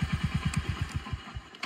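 A motorcycle engine chugs up close in a fast, even pulsing beat that slows and thins out toward the end, with no one talking.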